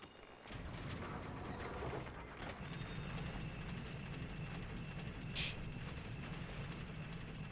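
A lift in the Dark Souls video game grinding along, with a steady low mechanical rumble and faint ratcheting clicks that continue throughout, fairly quiet, with no voices.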